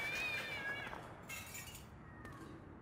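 Stray cats meowing in the adventure game The Longest Journey, a drawn-out wavering cry followed by shorter fainter mews over a dim ambient background.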